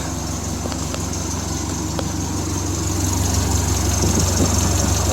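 A Triumph Spitfire 1500 engine idles steadily on a high choke setting, with a close, even, rumbling putter and no talk throughout.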